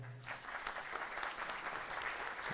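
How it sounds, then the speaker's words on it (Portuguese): Crowd applause welcoming a guest at a municipal committee session on artisanal fishing in Maricá, a brief, fairly faint burst of dense clapping from a seated audience. "vamos receber com palmas, né?"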